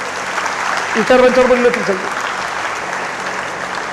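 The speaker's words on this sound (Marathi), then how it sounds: "सन्माननीय पोलीस दलातले सर आले, त्यांच्यासाठी एकदा जोरदार टाळ्या होत्या." An audience at a guidance camp for 10th and 12th standard students applauds police officers, a steady wash of clapping that runs throughout while someone speaks briefly over it.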